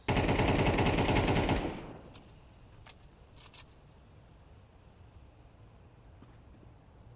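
Rapid pistol fire in a Counter-Strike match, a loud dense burst of shots for about a second and a half that cuts off abruptly, followed by quieter scattered clicks and faint background game noise.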